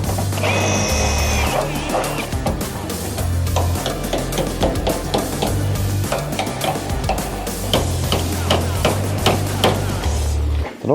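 Repeated hammer blows on a rusty car body panel during restoration, sharp metallic strikes in a rapid uneven rhythm, close and loud, with a steady low hum beneath.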